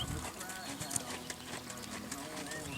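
During a riding lesson, horse hooves clip-clop steadily in the background while an instructor's voice talks over them almost throughout.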